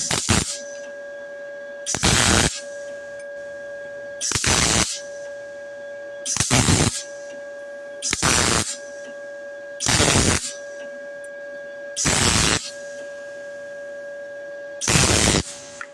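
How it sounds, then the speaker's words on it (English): An ArcCaptain MIG 200 welder in spot-weld mode tacks a round weld nut, giving eight short bursts of crackling arc, each about half a second, spaced evenly roughly two seconds apart, with a steady electronic whine between them. "I'm going to test out the spot welding feature of this machine on it."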